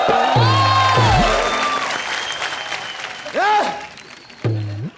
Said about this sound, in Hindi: जोरदार तालियां, कॉमेडी नाइट बचाओ